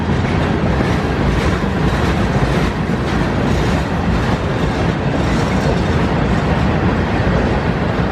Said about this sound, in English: You have the train going on the modern track right next to where the tunnel